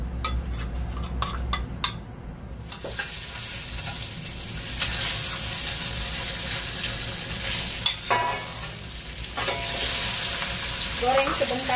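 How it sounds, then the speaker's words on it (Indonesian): Loud, steady sizzling of tofu frying in hot oil, with occasional utensil scrapes and clinks against the pan close by. "Setelah minyak panas, kita goreng tahu terlebih dahulu."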